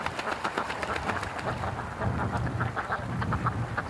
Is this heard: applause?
no